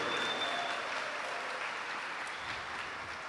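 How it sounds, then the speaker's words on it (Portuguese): Church congregation breaks into sustained applause during a Sunday Advent service, steady clapping from a large crowd held at an even level for several seconds with no voices on top. "Uma salva de palmas para um único forte."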